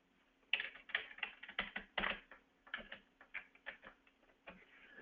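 Steady typing on a computer keyboard, close and fairly quiet, with irregular clusters of crisp key clicks and short pauses between bursts.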